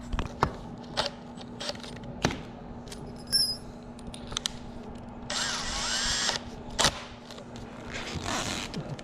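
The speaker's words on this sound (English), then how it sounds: "So drilling." A power drill whirs in a short burst amid scattered clicks and clanks of handling tools nearby, with another brief whir near the end.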